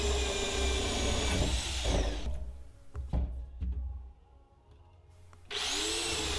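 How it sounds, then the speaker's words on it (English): A DeWalt DWD460 right angle drill with a Bosch spade bit whines loudly boring through double 2x4s for a couple of seconds, then falls quiet with a few knocks before revving up again at the end. "drilling through double 2x4s"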